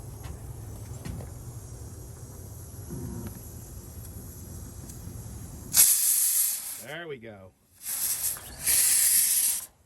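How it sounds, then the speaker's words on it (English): A pot steaming over a tiny gas flame gives a soft, low hiss for several seconds. A brief voice speaks, then louder bursts of hissing and a sweeping squeal follow near the end. "I had the tiniest of flame under there, keeping this steaming."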